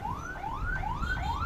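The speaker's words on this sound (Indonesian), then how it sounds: "Wah, ada ambulans." An ambulance siren wails in a repeating rising sweep heard in Indonesian street traffic from a vehicle on the road, loud and steady across the clip with road rumble beneath and no talking.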